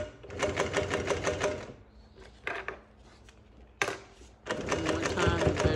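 A double needle sewing machine stitches in fast, loud, close bursts of rapid clatter, pausing twice for quieter handling noises before running again.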